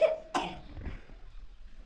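A single short cough from a child with a cough and fever, close to the mic, followed by a faint breathy sound, then quiet.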